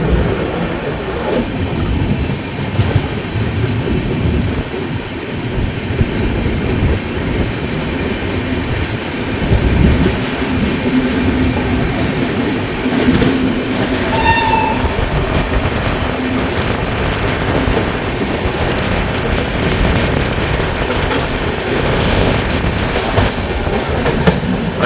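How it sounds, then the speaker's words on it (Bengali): The Darjeeling Mail passenger train runs along the rails with a steady loud rumble and rhythmic clickety-clack of wheels, heard from inside the carriage, with a brief faint squeal partway through. "ট্রেন এখন আমাদের দক্ষিণেশ্বর ক্রস করছে।"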